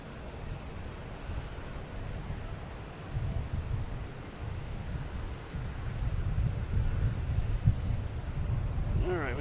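Delta Airlines airliner taxiing at Boston Logan Airport, a steady broad engine rumble mixed with wind noise that swells slightly toward the end, with people talking over it.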